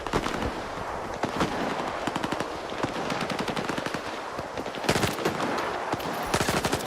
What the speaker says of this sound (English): Oh, they're shooting at the IPSF guys.